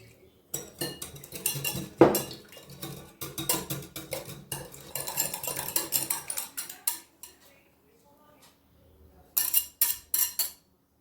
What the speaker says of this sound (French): On va mélanger les œufs avec le beurre